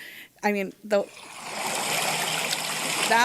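Rushing water from a road blowout, played back through a meeting-room microphone, builds into a steady hissing roar after a short bit of speech at the start.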